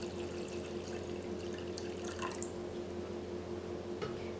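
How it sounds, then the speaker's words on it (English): Water pours softly into a saucepan over pieces of salted cod, a quiet continuous trickle and splash under a faint steady hum. "Add the bacalao to a saucepan and pour enough water to completely cover the bacalao."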